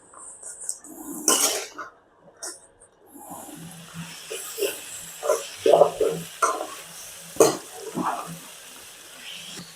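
Fried jackfruit and masala fry in a kadai with intermittent sizzling and scraping stirs, uneven bursts of clatter rising and falling over quiet background noise.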